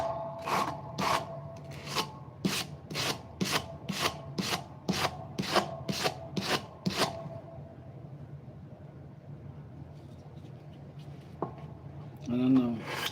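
A knife blade is drawn across a sharpening stone in about a dozen evenly spaced rasping strokes, close and distinct, before the strokes stop and quieter handling noise follows.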